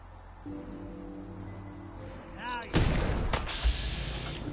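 A mine blows up in Fallout 4 Far Harbor: a sudden loud, broadband blast lands about midway, kicks up a noisy rumbling tail, and a second sharp thump follows, all over steady game ambience.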